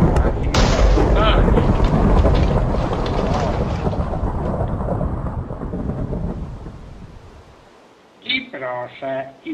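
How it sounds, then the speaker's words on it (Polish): Loud, heavy rain pours down with a deep rumble of thunder through the first seconds, the downpour easing and fading before a voice speaks briefly near the end. "Ojej, ale zaczyna lać."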